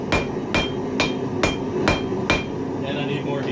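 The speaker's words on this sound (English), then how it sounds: "Now I start working it on the edge of the anvil" Six evenly spaced ringing hammer blows strike hot metal on the edge of an anvil in a forge, sharp metallic hits close to the microphone over a low background hum.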